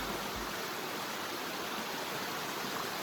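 A river in Coos Canyon, Byron, Maine, flows with a steady, broad rushing hiss that holds at an even level throughout, with no voices over it.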